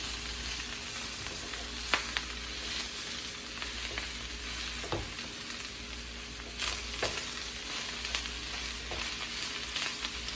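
Kale and sweet potatoes sizzling in a pan, a dense continuous frying hiss with a few scraping clicks of a utensil stirring now and then, no talking.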